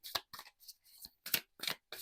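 Tarot cards being shuffled by hand, a series of seven short crisp riffling bursts with brief pauses between them, close and soft with no talking.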